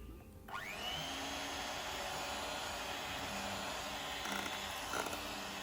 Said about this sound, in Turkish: Kremamızı biraz soğuttuktan sonra içine bir paket krem şanti ve vanilyamızı ekleyerek birkaç dakika çırpıyorum